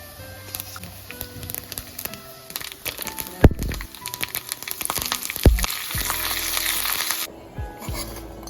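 Mustard seeds splutter and crackle in hot oil, sharp popping bursts over a steady sizzle, close and loud, with a few clinks of a utensil.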